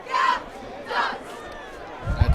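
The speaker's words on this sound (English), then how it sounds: "You hear the crowd saying, let's go, come on." Spectators at a high school basketball game between the Leonard Tigers and Howe Bulldogs chant in two short rhythmic bursts, echoing in a gym, followed by a low thump.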